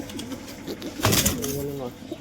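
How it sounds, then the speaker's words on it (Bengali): Pigeons in a breeding pair sitting on eggs give low, rolling coos, one burst swelling louder midway, with a person talking in the background. "পায়রা দুটো ডিমে আছে"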